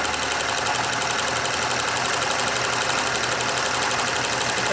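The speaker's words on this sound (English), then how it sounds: "You're going to sew to the other end, making sure that your elastic is out of the way." A sewing machine stitches a fabric surgical mask along its edge with elastic held aside, running in one continuous, even, close-up whir with no pauses.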